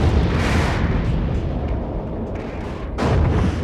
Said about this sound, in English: there is one of the biggest explosions I had ever seen in any science fiction movie up to this point